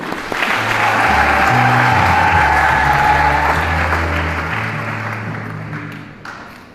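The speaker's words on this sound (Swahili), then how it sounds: "Hem, tujipigie makofi." A church congregation at an Easter Mass in Tabora breaks into loud, sustained applause that swells, holds and fades, with a sustained organ or keyboard chord ringing underneath.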